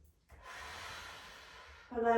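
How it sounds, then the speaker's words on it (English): Steady breathing held during a yoga pose in a morning flow session, a soft airy exhale lasting over a second, close and alone, with a voice starting at the end. "So we're breathing in this position,"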